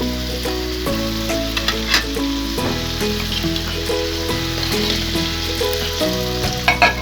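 Tempeh stir-fried in a hot pan with bean sprouts, giving a steady, close sizzle that runs the whole time, with music playing over it.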